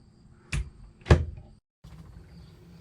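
An RV cabinet door fitted with an added latch is opened and shut: two sharp knocks and thuds, one heavier, close up, followed by brief quiet and low background hum.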